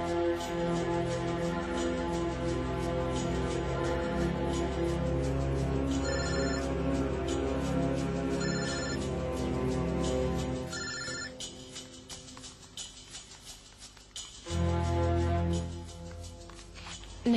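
A telephone rings repeatedly in bursts over background music, then the music drops away briefly before swelling back.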